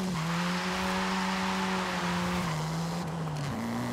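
A Mini Cooper engine in Forza Horizon 5, heard from an outside camera, holds a steady loud drone for about four seconds, its pitch dipping slightly and then stepping up near the end.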